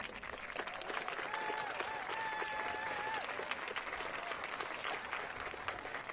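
Audience applause at a college transfer achievement celebration, a steady wash of clapping from a sizeable crowd that holds throughout, with a faint whistle-like tone rising briefly in the middle.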